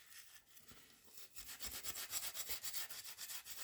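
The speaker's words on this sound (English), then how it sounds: "I'm just doing a little bit of sanding." Light hand sanding on a small carved wooden figure, a steady series of soft rhythmic rasping strokes, close and quiet, with no voices.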